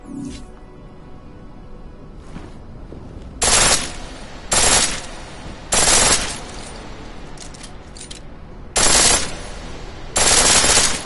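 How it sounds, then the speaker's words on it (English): A pistol firing on full auto in the game Deus Ex: Mankind Divided, loud rapid bursts of gunfire in five or six short, sharp volleys separated by brief pauses, with quiet background in between. "The pistol in full auto will take down targets fast, but it'll burn through your ammo."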